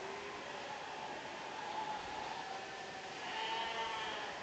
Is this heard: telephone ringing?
no